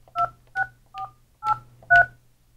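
Telephone keypad tones keyed in on a VVX 450 desk phone while setting a voicemail PIN, five short dual-pitch beeps at a steady pace, clear and close, with a faint low hum underneath.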